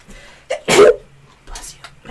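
A single sharp sneeze bursts out close by, with a short intake of breath just before it and a brief murmur of voices afterward.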